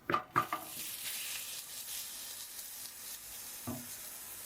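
Caramel-coated French toast sizzling in a buttered pan right after being flipped, opening with two sharp utensil clacks, then a steady soft hiss and one more faint tap near the end.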